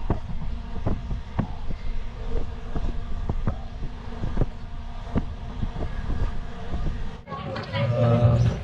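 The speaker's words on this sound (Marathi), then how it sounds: "मित्रांनो आता आपली ट्रेन चालू झाली आहे आणि आता आपण निघालो आहे बोरिवलीवरून." A train pulling out of Borivali station, its wheels beating a steady, rhythmic clatter over the rail joints beneath a low rolling rumble, while a voice talks over it.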